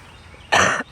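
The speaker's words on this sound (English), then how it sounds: "I apologize for coughing" A person coughs outdoors in a garden, irritated by pollen: two sharp, loud coughs in quick succession, close to the microphone, with no talk.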